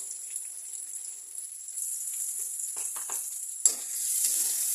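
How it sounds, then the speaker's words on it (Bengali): Crushed garlic and chopped onion sizzle in oil as a steady hiss, with soft scraping stirs and one sharp clack near the end. "পেঁয়াজ রসুন আমি ভালো করে সময় নিয়ে নেড়ে চেড়ে গোলাপি করে নেব"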